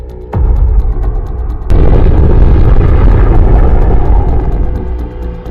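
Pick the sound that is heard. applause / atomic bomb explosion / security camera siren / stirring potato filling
atomic bomb explosion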